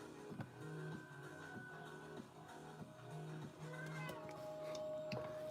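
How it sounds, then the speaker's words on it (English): A cat meows in short repeated calls around faint indoor background sounds, with a few soft knocks and a brief higher tone near the end. "She would just meow and be like, play with me now."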